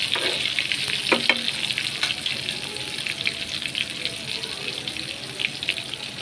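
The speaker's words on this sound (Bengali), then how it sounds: "একটু বেশি তেলেই ভেজে নিব, যেহেতু আমি একটু মোটা মোটা করছি।" Thick slices of ash gourd fry in a generous layer of hot oil, giving a steady, close, loud sizzle and crackle that runs throughout with a few brief clinks.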